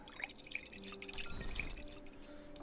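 A drink being poured in a tavern video game: faint, soft liquid trickling with a few light drips, quiet and steady throughout.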